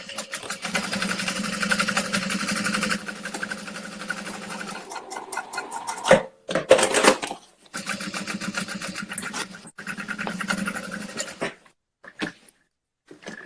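A sewing machine top stitching through the exterior of a fabric beauty bag, running in long steady bursts with short stops in between, close and fairly loud, with no speech.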